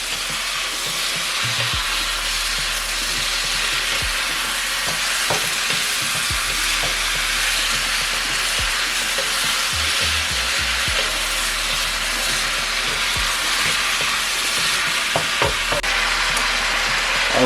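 Vegetables for chicken and shrimp chop suey sizzle loudly in a very hot pan as they are stir-fried, with a steady crackle and occasional scrapes and knocks of the utensil against the pan, and no talk.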